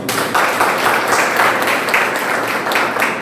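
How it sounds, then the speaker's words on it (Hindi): Loud applause from a seated audience at a business seminar, dense continuous clapping that holds steady for a few seconds. "एक बार आप सबके लिए जोरदार ताली"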